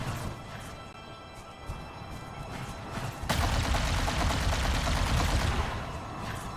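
Rapid bursts of gunfire in the Halo video game, loud and dense, with a sharp jump into a sustained crackling volley about halfway through, with no speech over it.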